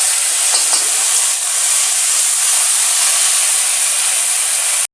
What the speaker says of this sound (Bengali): এর মধ্যে আমি পোস্তটা আমি একটু ফ্রাই করে নেব।